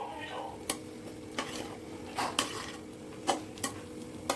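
Fish pieces are stirred in oil in a pan for a spicy South Indian fish pickle, giving faint sizzling under irregular spoon scrapes and clinks against the pan at moderate distance.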